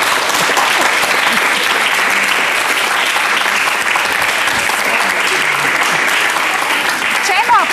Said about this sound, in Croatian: Čemu aplauz?